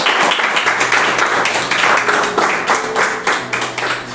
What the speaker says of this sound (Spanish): Eso vamos a darle un fuerte aplauso al Señor.